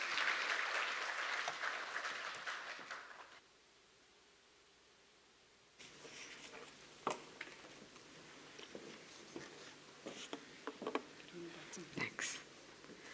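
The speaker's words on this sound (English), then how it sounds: "Could you give her a round of applause?" An audience at an academic association's annual conference claps loudly for a few seconds, then the room falls silent before a speaker begins talking near the microphone amid small handling noises.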